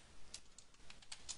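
Quiet, close typing on a computer keyboard: a short run of about half a dozen soft, irregular key taps.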